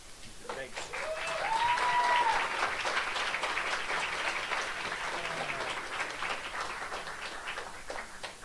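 An audience claps steadily for several seconds, a broad wash of applause that swells early and slowly tapers, with a voice speaking over it.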